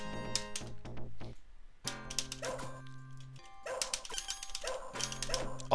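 Barks and yips from the dog in the Shadow Dancer arcade game ring out repeatedly over busy synthesized game music and effects, loud and close throughout.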